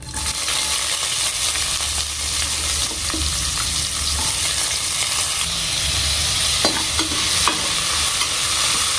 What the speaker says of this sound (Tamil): இப்போ நம்ம பொடியா நறுக்கி வச்சிருக்க வெங்காயத்தை ஆட் பண்ணிக்கலாம்.